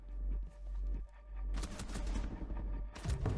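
Bursts of gunfire in the video game Rainbow Six, several loud volleys of shots firing in quick succession with brief pauses between them, no talk over them.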